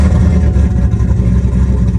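A turbocharged Chevrolet Camaro SS engine, already warm, rumbles loud and close in a steady deep idle just after starting, with no voices.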